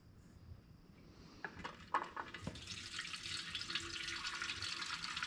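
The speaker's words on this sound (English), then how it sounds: "let's fill up this fuel tank with a new batch of fuel" Fuel pours into an old 1940s Elgin outboard motor's metal fuel tank, a few light clinks giving way to a steady, soft, hissing trickle that continues to the end.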